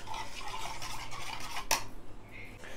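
A spoon stirs a chilled milk-based ice cream batter in a bowl, making close, steady scraping and swishing with one sharp clink of metal against the container.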